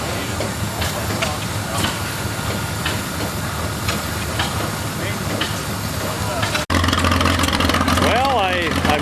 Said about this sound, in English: this International Diesel is cranking over right now